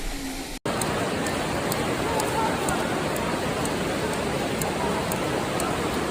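Heavy rain pours down in Matsuyama, Japan as a steady, dense broadband hiss. After a brief cut near the start it runs loud and continuous, with faint regular ticks above it and no clear voices.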